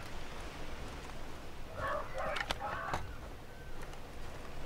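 A bird in the Far Cry 3 video game, a pheasant or cassowary, gives a short series of faint, quick calls at moderate distance over a constant background hiss.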